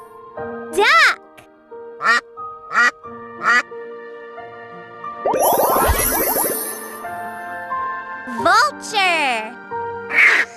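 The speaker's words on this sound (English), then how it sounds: "Duck." Duck quacking in loud, close, repeated nasal bursts with a busier flurry of quacks in the middle, interspersed with pauses.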